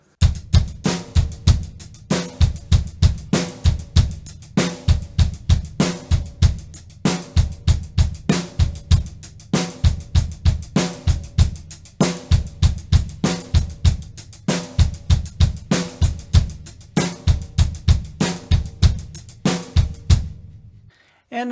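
A drum kit plays a steady paradiddle pattern with bass drum eighth notes added, repeating evenly for about twenty seconds of crisp, close hits before stopping.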